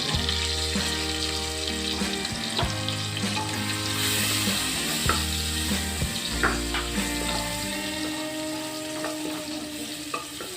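Garlic frying in oil with green chilies and turmeric for a taro leaf dish, a continuous loud hissing sizzle with scattered utensil taps and stirring clatter throughout, no speech.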